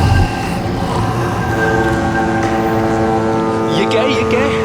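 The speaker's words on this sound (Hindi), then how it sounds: "ये आवाज कहाँ से आ रही है? शायद कोई जहाज होगा।" Ship heard during a TV crime drama scene, a low droning rumble with a steady horn-like tone that holds throughout, while a voice speaks over it.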